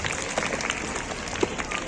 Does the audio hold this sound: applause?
yes